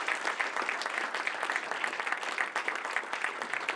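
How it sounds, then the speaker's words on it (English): An audience at the Westhill High School National Honor Society induction ceremony applauds its new members, a steady patter of many hands clapping that sounds somewhat distant and soft. "please join me once again in applauding all of our new Honor Society members"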